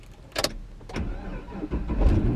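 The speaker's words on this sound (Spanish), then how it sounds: "Vamos a ver si arranco el carro porque a veces por el frío las baterías se mueren." A car engine cranks and catches on a cold 55-degree morning in Miami, with a sharp click followed by a rising, rumbling engine noise close by.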